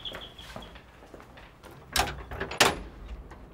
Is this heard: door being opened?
yes